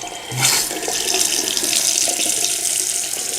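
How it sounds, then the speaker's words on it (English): Cold water runs steadily from a matte black bathroom sink faucet, a close, continuous splashing rush into the basin with no talking. "Showing y'all what the pressure look like. Cold water right here."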